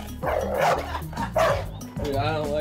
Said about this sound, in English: My brother has a huge dog.